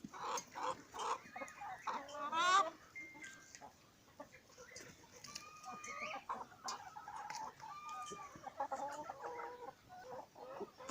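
Farmed chickens cluck and chatter nearby in a yard, a busy, irregular stream of short clucks and squawks with a few louder calls, moderately close and not drowned by talk.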